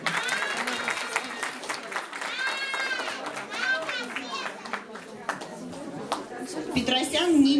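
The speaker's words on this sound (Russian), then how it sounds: "Ваши аплодисменты." Applause rises at a master's diploma ceremony at a Moscow pedagogical university, steady clapping from a hall audience mixed with children's voices and people talking throughout.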